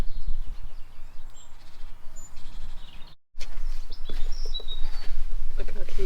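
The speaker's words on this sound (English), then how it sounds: "there's all sorts of little birds. It's like a little blue tit, robin." Small birds, including blue tits and robins, chirp and tweet in short, scattered calls over a steady outdoor hiss in Scotland's Cairngorms, with a brief dropout partway through.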